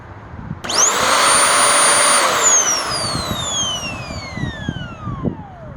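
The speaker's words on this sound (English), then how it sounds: "so let me just turn the motor on" Electric motor of a curb-found appliance switched on, starting abruptly into a loud, high whine that holds for a moment, then falls steadily in pitch as it spins down, with light rattles trailing at the end.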